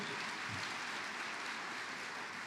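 Audience at a national election debate applauds, a faint, steady wash of many hands clapping at a distance, continuing evenly without voices.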